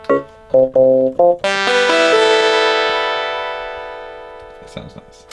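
An old keyboard powered up and run through its built-in crunch effect: a few short, distorted stabbed chords, then one long crunchy sustained chord that slowly fades, ending with a brief rattling noise.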